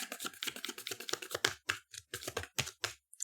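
A deck of tarot cards is shuffled loudly and close up, a rapid run of crisp clicking riffles with brief pauses and no talking.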